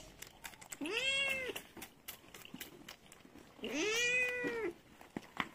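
A cat gives two long, drawn-out meows about two seconds apart, close and clear, with quiet background between the calls.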